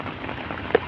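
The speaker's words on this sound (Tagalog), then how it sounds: "Grabe, ang lakas ng ulan mga toy oh." Heavy rain pours steadily in a dense, continuous hiss on a fishing trip in Agusan, with one brief louder splash near the end and no voices.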